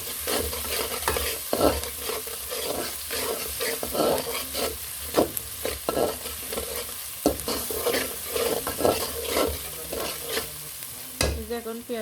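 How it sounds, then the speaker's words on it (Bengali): Chopped onion and garlic sautéed in a pan and stirred repeatedly, a constant sizzle cut by rhythmic scraping strokes of the spatula, close and fairly loud. "এখন পেঁয়াজ রসুনগুলো ভালো করে কষিয়ে নিব।"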